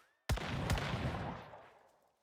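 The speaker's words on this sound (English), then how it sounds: "we get that double explosion from the weak spot" An unstable bomber build in the game Once Human sets off a sharp double explosion, two heavy booms in quick succession followed by a long rumbling decay that fades out, with no voice over it.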